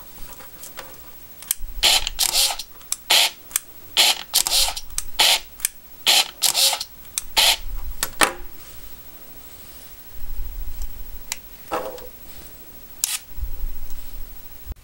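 Contax G1 35mm rangefinder camera firing bracketed frames, a series of quick close shutter and film-advance whirs in rhythmic groups, with short pauses between bursts and no talk.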